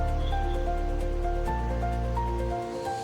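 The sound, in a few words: water boiling in a pot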